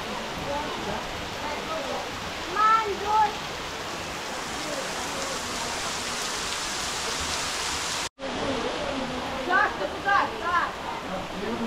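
The Gebeus waterfalls near Arkhipo-Osipovka, a roughly 10-metre cascade, give a constant broadband rush of falling water; faint voices and birdlike chirps sit on top, with a brief dropout partway through.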